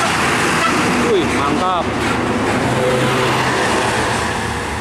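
A heavy, long Double Star tronton trailer truck passes on the road, a loud steady roadway roar with rumbling engine and traffic noise, while a man briefly exclaims over it.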